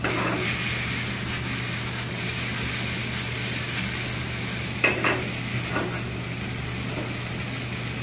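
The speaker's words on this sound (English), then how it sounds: "Now we're going to let it sear a little bit" Freshly made spätzle searing in a hot pan, giving a steady fizzing sizzle with a few brief stirring scrapes partway through, close and moderately loud.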